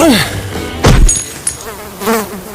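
Flies and bugs buzz in an abandoned city, a loud, close buzzing that swoops past, with a dull thump in between.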